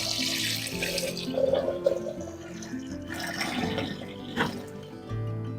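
Ten litres of water poured into a container while preparing amirtha karaisal, a liquid farm mix made with cow urine; a steady splashing, running pour fills several seconds, close and moderately loud, with no talking.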